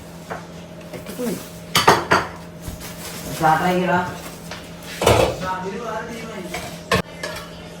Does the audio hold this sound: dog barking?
no